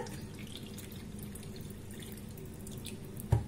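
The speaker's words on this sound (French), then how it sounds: "je vais prendre une mesure d'eau tiède" Lukewarm tap water runs steadily into a measure for dissolving baker's yeast, a continuous close trickle with a brief clatter near the end.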